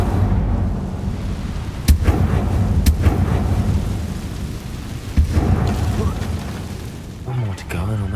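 Incendio fire spell bursts in the video game Hogwarts Legacy, rumbling, crackling blasts with a few sharp booming hits over a continuous roaring wash, loud and close.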